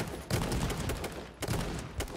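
Bursts of gunfire in the H1Z1 battle royale game, a few clustered volleys of shots separated by brief gaps, close and fairly loud in the game mix.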